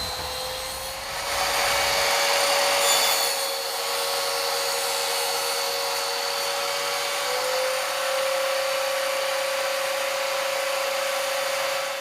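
A high-pitched table saw cutting wood whines steadily with a constant tonal hum, loud and close, without any talking.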